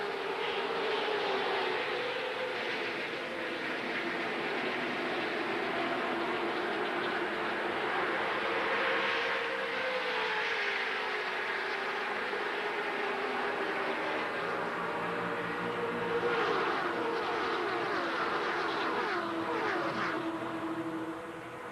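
A pack of NASCAR stock cars in the 2002 Gatorade Twin 125s coming down for the start, a continuous loud engine roar that rises and swells as the field passes, with no voices.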